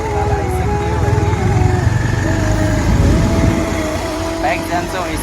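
A motorbike ridden on a road near Suketal, its engine droning steadily close by with shifting pitch, while a person talks over it.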